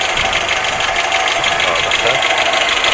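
A Renault Logan's 1.4-litre fuel-injected engine idles steadily with a constant mechanical hum and faint ticking, close and loud throughout, with occasional background noise.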